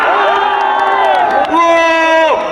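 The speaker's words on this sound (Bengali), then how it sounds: "সব থেকে শ্রেষ্ঠ সেলিব্রেটেড সিনেমা করে তোলার জন্য তোমাদের জন্য একটা জোরে হাততালি হয়ে যাক।" A large crowd at an outdoor ground event for a film team cheers loudly up close, with sustained shouts and whoops from many voices, including children, blending into one continuous roar.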